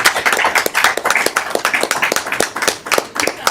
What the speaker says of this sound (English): Let's give them a round of Yes, applause.